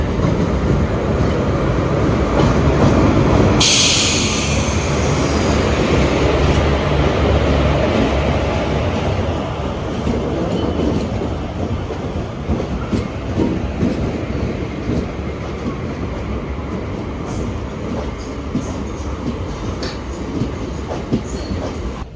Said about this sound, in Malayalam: നമ്മുടെ കാരയ്ക്കൽ എക്സ്പ്രസ് വന്നിരിക്കുകയാണ്, അഥവാ ടീ ഗാർഡൻ എക്സ്പ്രസ്